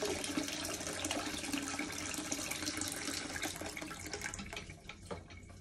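Water runs steadily from a tap into a sink while something is washed and scrubbed under the flow, with faint splashing shifts near the end.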